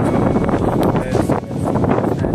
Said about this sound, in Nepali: एकदम हावा लगाइरहेको छ